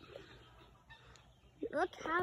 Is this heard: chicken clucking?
yes